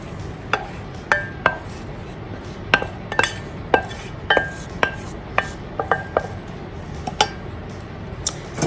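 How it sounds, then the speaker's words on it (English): Hot browned caramel goes into a Pyrex glass dish for crème caramel, bringing a string of sharp glassy clinks and knocks at irregular intervals over a soft background hiss, fairly close and without talk. "we're going to add it to a Pyrex dish"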